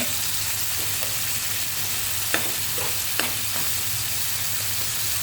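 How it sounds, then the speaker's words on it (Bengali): Onion and dried fish (shutki) fry together in a pan for a Bengali kochur loti dish, giving a steady broadband sizzle with a couple of sharp stirring clicks near the middle, close and continuous throughout. "যত তাড়াতাড়ি দিব পেঁয়াজ আর শুটকি একসাথে ভাজা হয়ে যাবে"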